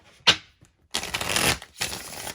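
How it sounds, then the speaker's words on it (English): Tarot cards are shuffled by hand close up: a single sharp snap, then a longer riffling burst followed by a shorter one, crisp and papery, with no voice over it. "I'm gonna shuffle and then pick from the top straight."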